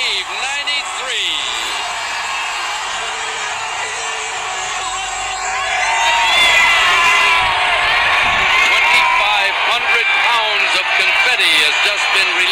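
A large New Year's Eve crowd roars and cheers at the 1993 ball drop, a loud, continuous wall of whoops and shouting that swells midway, with an announcer talking over it.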